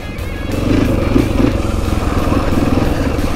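A 2020 KTM 500 EXC-F dirt bike engine drones steadily while riding, a close, loud four-stroke thrum with a slight rise in revs partway through and no talk.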